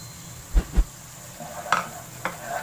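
Cumin seeds dropped into hot oil with browned onions for achari keema, giving a brief sizzle with a couple of low thuds from stirring, close and fairly soft.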